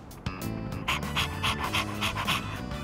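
A dog in Persona 3 Reload pants in quick, rhythmic bursts of breathy huffs, close and steady, layered over soft background music, with no one speaking.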